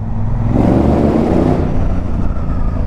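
A motorcycle accelerates in traffic, its engine note rising loud and close in a sustained roar before easing off slightly.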